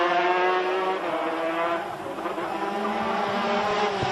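GP125 racing motorcycles scream past on the twisting Macau Grand Prix street circuit, a loud sustained high-pitched engine whine that rises and dips slightly as the bikes run.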